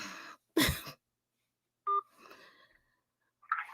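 A single short telephone keypad tone sounds as 1 is pressed to accept a call, a brief clean beep between other scattered faint sounds and quiet gaps.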